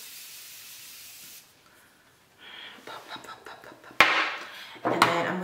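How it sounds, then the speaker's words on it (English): Morphe Continuous Mist setting spray fires in two sharp, close hissing bursts after a quiet stretch with soft handling noises, the second burst following about a second after the first. "use the Morphe Continuous Mist"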